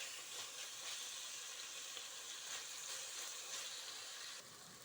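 Vegetables fry in a pan for vegetable pulao, giving a soft, steady hiss and sizzle that stays even throughout, faint and close with no talk.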